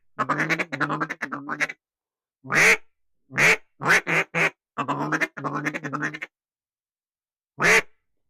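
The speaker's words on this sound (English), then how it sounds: "There's geese, right? Yeah, those are geese." Geese calling near a duck blind in an Arkansas field, a run of loud, nasal honking bursts in quick clusters, then scattered single calls with short silences between.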